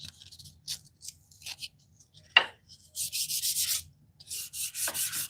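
Wood rubbed with 320-grit sandpaper in short, scratchy strokes, first faint and broken, then longer steady rasping passes close by, with gaps of quiet between.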